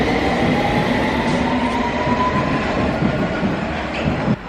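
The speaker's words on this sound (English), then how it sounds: "I'm about to take the train." London Underground tube train running through a tunnel, a loud continuous rumble with steady rattling of the carriages and faint wheel squeal, close and sustained without talk.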